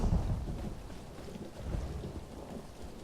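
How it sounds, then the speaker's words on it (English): Rumbling storm ambience in The Elder Scrolls Online video game, a low continuous roll of thunder with steady rain washing underneath, swelling briefly midway and staying fairly constant without any voices. "let's get there quickly and get out of this thunderstorm"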